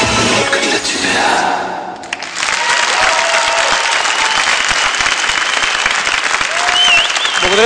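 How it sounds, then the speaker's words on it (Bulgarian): Studio audience at a Dancing with the Stars ballroom competition broadcast gives loud, sustained applause with crowd cheering, briefly dipping near the start before swelling again and holding strong to the end. "Благодаря ви за аплодисментите."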